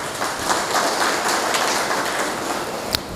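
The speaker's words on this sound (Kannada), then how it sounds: "ಚಪ್ಪಾಳೆ ಹೊಡಿದರೆ ಜೋರಾಗಿ ಖುಷಿಯಿಂದ ಹೊಡೆದು ಬಿಡಿ ಒಂದು ಸರ್ತಿ" Crowd clapping at a political party rally for a Karnataka by-election in Mangaluru, a steady, dense patter of many hands from a distant audience, even and sustained, ending with one sharper clap.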